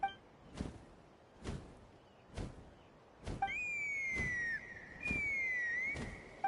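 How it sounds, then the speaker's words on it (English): Whistle in the video game Genshin Impact, two sustained tonal whistle notes sliding in pitch after a series of evenly spaced thumping footstep-like beats, fairly close and clear. "That sounded like a whistle."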